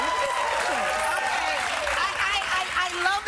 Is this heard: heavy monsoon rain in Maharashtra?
no